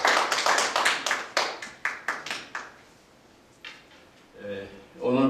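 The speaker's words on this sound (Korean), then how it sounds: "여러분 힘찬 박수로 환영해 주시기 바랍니다" Audience members at a lecture clap for a speaker being welcomed, a few sharp, uneven claps fading over about two seconds, followed by quiet shuffling and a voice starting to talk.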